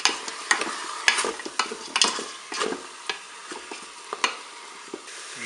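Onions browning in a Cookeo multicooker, being stirred with scattered scrapes and clinks over a soft steady sizzle, close and fairly quiet with no talk.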